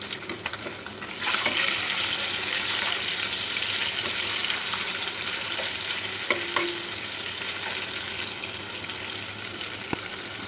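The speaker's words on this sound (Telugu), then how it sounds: "ఇప్పుడు ఆయిల్ వేసుకొని దీంట్లో ఫ్రై చేస్తున్నాను" Fish marinated in lemon juice, salt and chili powder fries in hot oil, giving a dense, steady sizzle that jumps up early and holds loud and close throughout, with occasional faint ticks and no speech.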